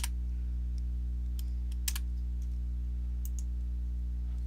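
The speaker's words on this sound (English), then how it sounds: "We're going to type set debug and press enter." A few sparse, light keystrokes on a computer keyboard as a command is entered, faint clicks spaced across a steady low electrical hum with no talking.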